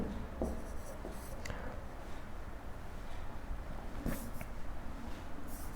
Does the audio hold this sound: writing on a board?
yes